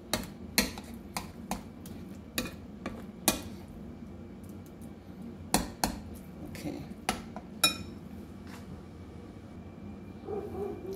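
A utensil clacks and scrapes against a bowl in quick irregular bursts while tinned mackerel fritter batter is stirred, close up, with soft background hum between strokes.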